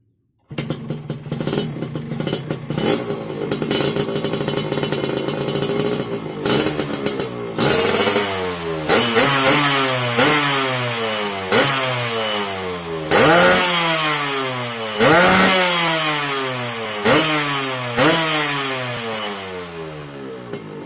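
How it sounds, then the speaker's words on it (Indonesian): A loud Yamaha RX-King motorcycle engine with a Lopster DTX 51 aftermarket exhaust revs repeatedly, rising and falling in pitch with sharp throttle blips, close up and continuous. "ini saya mau ngetes knalpot gimana suaranya"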